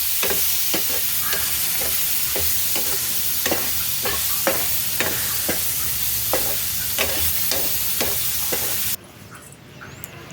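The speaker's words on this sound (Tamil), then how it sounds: "கருவேப்பிலை போட்டுக்கணும் ஃபுல்லாக நல்லா வதக்கணும்" Curry leaves sautéing in a hot pan for tomato chutney: a continuous loud sizzle punctuated by a regular series of sharp spatula scrapes and taps, ending in a quieter stretch.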